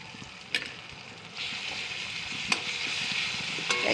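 Garlic drops into hot oil for a puti fish tel jhal and sizzles steadily with a brightening frying hiss, while a spoon stirs with a few light clinks.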